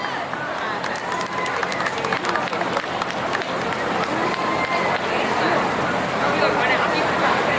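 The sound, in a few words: audience applause for performer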